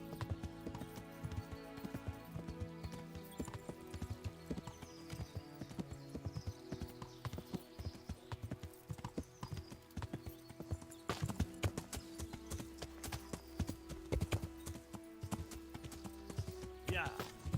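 Galloping horse hooves in Kingdom Come: Deliverance, a steady clip-clop running continuously at moderate volume beneath game music and ambient sound, with a voice talking over it.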